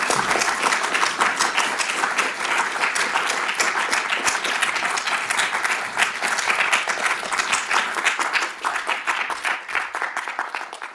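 An audience breaks into sustained, dense applause welcoming Professor Carole Parkes at her inaugural lecture on responsible business and management education, a steady crowd of clapping hands that holds evenly and thins slightly near the end, with no talk over it.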